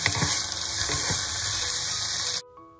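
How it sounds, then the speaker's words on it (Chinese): Beef brisket stir-fries over high heat with scallion and garlic in a hot wok, a loud, steady close sizzle with faint scraping that cuts off abruptly near the end. "炒香后调成大火加牛腩"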